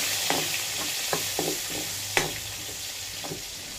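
Chopped garlic and onion sizzle in hot oil in a frying pan, a steady close hiss broken by scattered clicks and scrapes of a spatula stirring.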